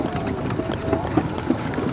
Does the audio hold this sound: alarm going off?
no